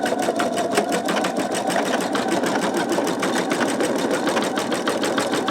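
A home embroidery machine stitches a sugar skull design, laying a new thread color over gray fill. It runs as a steady, fast mechanical whirr with rapid needle ticking, close and continuous throughout, with no talking.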